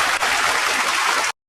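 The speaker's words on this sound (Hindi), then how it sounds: "एक बार जोरदार तालियां" Audience applause at a talk for a rural-born RAS topper who became an SDM: dense, steady clapping from a crowd, loud and close, running about a second and a half before cutting off abruptly.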